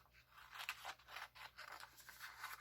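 Scissors cut paper for a handmade Ramadan lantern, a quiet series of close, uneven snipping and crisp scraping strokes in quick succession, with no talking.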